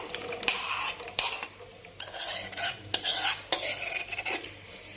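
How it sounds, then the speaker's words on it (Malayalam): A spoon stirs thick green chili payasam with cashews and raisins in a pot, giving about six distinct scraping strokes against the metal, close and fairly loud, with a faint sizzle underneath. "നല്ലോണം നമുക്ക് മിക്സ് ചെയ്ത് കൊടുക്കാം."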